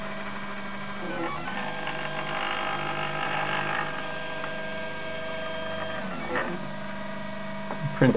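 A Prusa i3 RepRap 3D printer prints a display cover, its stepper motors whining and buzzing in steady shifting tones over a constant hum, with brief pitch changes as the print head moves.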